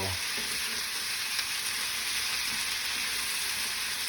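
Potatoes and onions fry in grease in a pan, giving a steady, dense, close hissing sizzle that stays even for the whole stretch with no talking.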